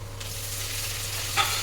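Food frying in a pan is stirred over a steady low sizzle, with a brief scrape of the spoon near the end and no voices.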